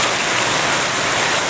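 Heavy rain pours down in a steady, dense, unbroken hiss that fills the whole stretch, with no voices over it.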